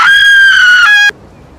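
A woman lets out one loud, shrill, sustained scream that wavers slightly in pitch, then cuts off abruptly into near silence.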